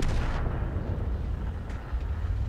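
FV4005 tank cannon firing a shell in the World of Tanks video game, a loud booming blast at the start that rolls into a long, dense, rumbling tail.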